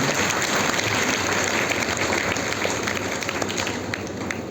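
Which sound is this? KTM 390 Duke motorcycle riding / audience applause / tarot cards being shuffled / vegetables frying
audience applause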